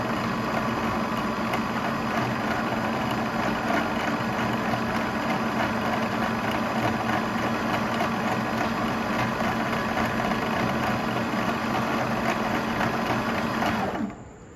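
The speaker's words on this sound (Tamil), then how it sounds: "ஸோ நம்ம ஃபுட் கண்ட்ரோலை ப்ரெஸ் பண்ண ஆரம்பித்தோம் அப்படின்னா பாபின் சுற்ற ஆரம்பிச்சிடும்." A sewing machine, driven by its foot control, winds thread onto the bobbin with a steady, loud motor whir that runs unbroken for about fourteen seconds before winding down abruptly.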